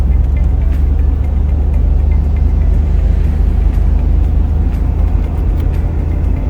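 Toyota Land Cruiser fitted with Brembo brakes and 405 mm discs, out on the road for a brake test: a steady low engine and road rumble from inside the cabin, continuous and even throughout, with no talk.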